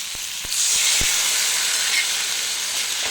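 Water poured onto boiled potatoes in a hot pan sets off a sudden loud burst of steamy hiss and sizzle, which stays strong and steady after the first splash.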